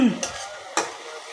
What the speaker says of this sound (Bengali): এবার একটু কষে নেক।